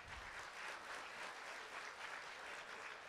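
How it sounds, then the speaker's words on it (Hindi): Audience at a kavi sammelan poetry gathering claps in a continuous, fairly faint wash of applause that stays even from start to finish, with no talk over it. "हाँ, इस बात पे तालियां बजा दो"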